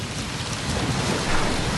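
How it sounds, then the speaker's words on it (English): Steady heavy rain pours down outdoors in hot South American terrain, a dense, even hiss close to the microphone with no voices. "At least rain had turned down the heat."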